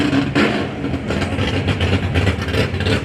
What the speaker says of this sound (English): Oh, we got a super stocker coming down